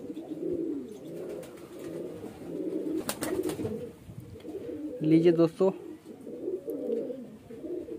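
A highflyer breeder pigeon coos in low rolling phrases throughout, while someone speaks briefly and a few sharp clicks and knocks break in near the middle.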